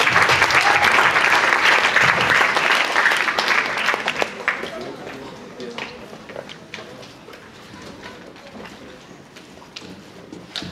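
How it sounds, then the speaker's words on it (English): Audience applause for a band at a battle of the bands concert swells loudly, then thins into scattered claps over the closing seconds, with some murmured voices underneath. "Give them a round of applause, please."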